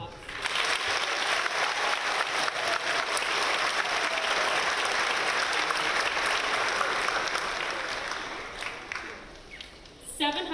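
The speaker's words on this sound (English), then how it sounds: "may we please give them a round of applause" A graduation audience at Gorton High School gives sustained applause, dense clapping from a large crowd that holds steady then tapers off near the end.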